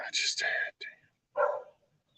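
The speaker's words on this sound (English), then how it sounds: "Now the dog stands over in there and barks because they hear me over here talking" A dog barking a few times in short bursts, fairly close and loud, with a brief pause between the first sharp barks and a final bark.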